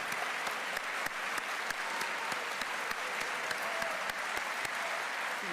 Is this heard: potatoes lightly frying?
no